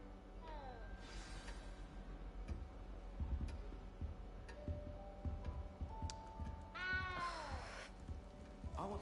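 Cat meowing inside the castle in Hogwarts Legacy, two or three rising meows at the start and near the end over a steady ticking clock and low background sounds.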